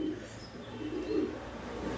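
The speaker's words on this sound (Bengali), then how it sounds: "এখানে এক পেয়ার মুখী কবুতর দিলাম," A pair of Mukhi pigeons coo softly nearby in low, throaty rolling calls that rise and fall in a few soft swells, with no voices.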